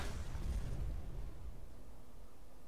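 A loud explosion in the video game Skyrim, a heavy low boom that swells at the start and then rumbles on steadily without fading much.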